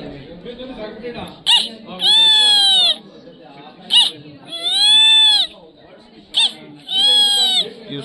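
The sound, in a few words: voice imitating a white-eyed buzzard call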